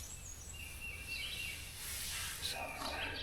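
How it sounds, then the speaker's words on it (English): Faint birdsong in the distance during spring turkey season, with scattered high chirps and short calls over a quiet outdoor background. "all the birds are singing"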